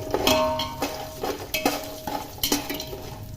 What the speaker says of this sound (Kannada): ಇವೆರಡನ್ನ ಹಾಕಿ ಚೆನ್ನಾಗಿ ಮಿಕ್ಸ್ ಮಾಡ್ಕೋಬೇಕು.